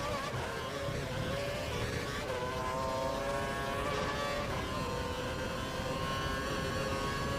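High-revving Formula 1 engine whine from the F1 2012 video game, a sustained tonal drone at full revs holding steady across the whole stretch with no talk.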